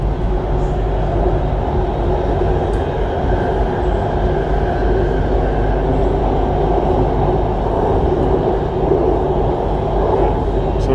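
A Bangkok BTS Skytrain train on the Sukhumvit line rumbles at its terminus depot, a loud, steady low roar and hum of running rail gear lasting throughout without pause.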